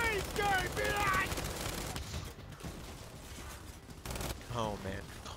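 Gunfire in Gears 5 aimed at a boss's belly, bursts of rapid shots layered with game effects and voices talking over parts of the clip, fairly loud throughout.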